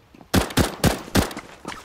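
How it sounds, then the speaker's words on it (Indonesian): Four sharp gunshots from Counter Strike 2 ring out in quick, evenly spaced succession, loud and close, with a faint fifth shot trailing after them and no talking. "Ada kesan tembakan."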